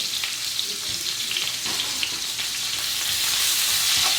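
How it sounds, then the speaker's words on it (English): One whole onion sizzles steadily in hot oil in a pan, a dense crackling hiss that grows slightly louder toward the end, with faint stirring scrapes. "So I'm gonna fry some onion here."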